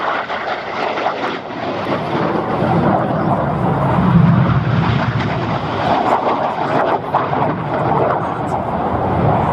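Red Arrows display jets roar overhead while flying the Cyclone manoeuvre at an airshow at Scampton, a broad rushing engine noise that swells and holds steady, loud and sustained.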